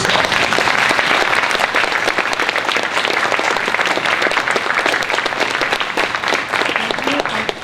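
A large audience at a Startup Cup event claps for the six finalists: dense, loud, sustained applause filling the room, steady throughout with no voices rising above it.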